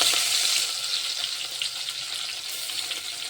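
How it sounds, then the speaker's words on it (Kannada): Mustard seeds and cumin spluttering in hot oil in a home kitchen pan, a steady bright crackling sizzle with dense popping, close and alone. "ಸಾಸಿವೆ ಜೀರಿಗೆ ಚಟಪಟ ಅಂದಮ್ಯಾಗ ಅದಕ್ಕೆ ಬೆಳ್ಳುಳ್ಳಿ ಹಾಕಂಬ್ರಿ."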